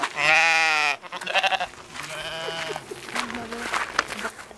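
A loud, close sheep bleat rings out, followed by fainter bleats amid rustling and a person speaking nearby, in a grassy field in Pausitz, Germany.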